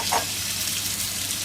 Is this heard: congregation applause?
no